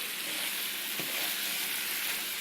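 Noodles fry in a pan, a steady close hiss of sizzling oil with a faint stir or scrape around the middle, no talk.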